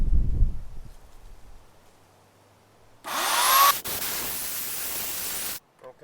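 A chainsaw rips through a walnut wood blank in one loud, hissing burst of about three seconds, after a quieter low rumble and a short pause.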